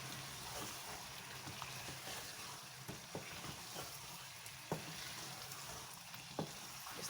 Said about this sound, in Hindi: इस तरह से इसको भून लें